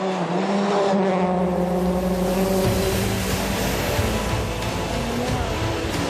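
Rally cars racing on snow and ice at Rally Sweden, a continuous loud engine roar with rising and falling pitch as cars pass near, over a dense wash of crowd and road noise.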